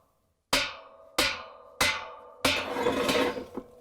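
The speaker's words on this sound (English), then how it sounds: "we're going to hammer it to unscrew counterclockwise" Four sharp mallet blows ring out at a steady pace, hammering an LG/Kenmore washer clutch assembly counterclockwise to unscrew it, each a loud metallic strike with a bright decay, the last ones blurring into a clattering rattle.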